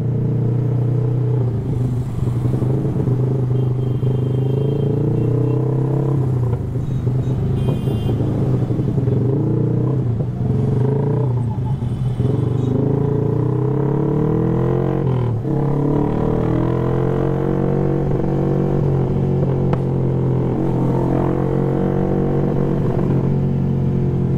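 Dense Saturday-night street traffic, with cars and motorcycles rumbling past in a steady, loud, continuous drone and occasional engines revving up close; no talking.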